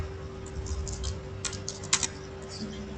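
A DNS server address being entered on a computer keyboard, with light clicky keystrokes in short bursts close by and a steady faint hum underneath, no talking.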